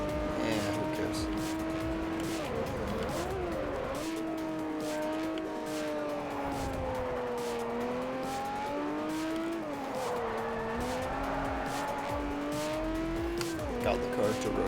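A race car driving in Forza Motorsport 4, its engine droning steadily and shifting in pitch as it accelerates and brakes through corners, loud and close, with someone talking over it.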